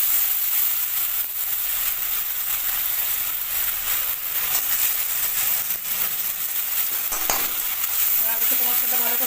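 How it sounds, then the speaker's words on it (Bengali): Spiced masala with tomato and potato sizzles steadily in a hot pan for a fish curry, a dense continuous hiss with occasional scraping stirs up close. "মশলাটা ভালো করে কষে নিচ্ছি"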